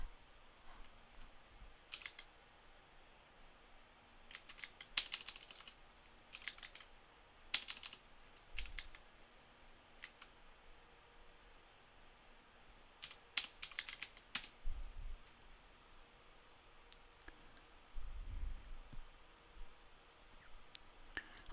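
Bursts of quiet typing on a computer keyboard, short runs of rapid key clicks separated by pauses, close and faint with no talking.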